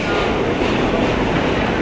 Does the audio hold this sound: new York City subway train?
yes